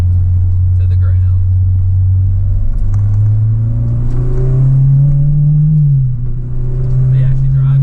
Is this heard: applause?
no